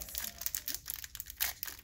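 Crinkly plastic and foil of a Pokémon Breakpoint trading card blister pack being torn open, a close run of bursty crumpling and ripping bursts lasting a couple of seconds with no talk.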